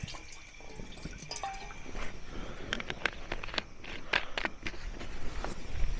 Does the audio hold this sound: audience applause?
no